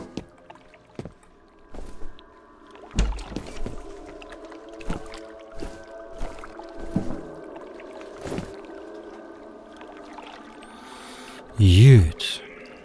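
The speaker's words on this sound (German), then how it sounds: "Wieso höre ich Wasser plätschern?" Scattered drips and light splashes echo through a sewer in the first-person shooter F.E.A.R., spread irregularly over a low droning ambience, ending in a louder watery gurgle.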